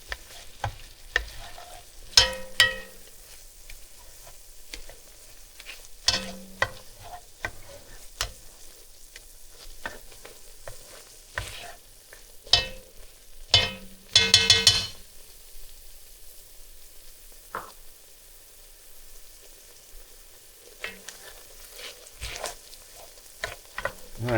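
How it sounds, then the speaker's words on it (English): Ground beef and pasta mixture for one-pot Velveeta taco pasta being stirred in a pot, with intermittent scraping clanks of a utensil over a steady low sizzle, loud close bursts of stirring recurring throughout. "we're going to stir that in and cook it for about 30 seconds or so. Make sure to scrape all the bottom"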